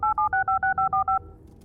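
Eight evenly spaced two-tone telephone keypad beeps dial a number in an office, each tone short and clear, followed by a faint trailing hum.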